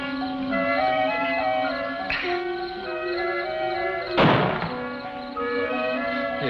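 A single sharp, heavy boom of a cannon firing cuts through sustained musical tones, with a smaller thump a couple of seconds earlier.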